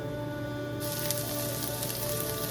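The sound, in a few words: sizzling of food sauteing in a pan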